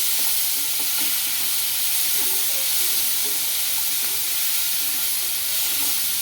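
Tomatoes simmering in a covered pan for hotel-style chicken gravy, a steady bubbling sizzle and hiss of steam that holds evenly throughout.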